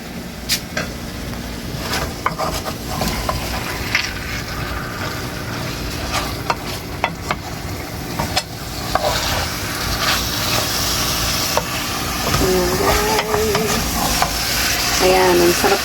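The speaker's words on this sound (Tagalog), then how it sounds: "Mix lang muna natin yung mga ingredients, mga spices para may lasa siya." Ingredients and spices are stirred and mixed in a sizzling frying pan, with repeated scraping and clacking of a utensil against the pan over a steady close sizzle, briefly joined by a faint voice near the end.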